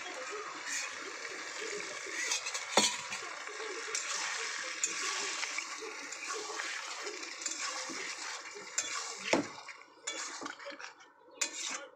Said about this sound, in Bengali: মশলাটা শুকিয়ে গেছে, অল্প একটু জল দিয়ে দেবো।